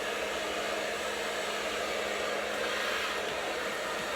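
A handheld blow dryer runs steadily close by while drying short hair with a brush, a constant loud whooshing roar of airflow with no break and no voices.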